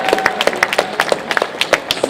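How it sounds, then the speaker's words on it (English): An audience at a comic convention panel gives a brief, thin round of applause, with scattered individual claps rather than a full ovation. "Give them a round of applause real quick."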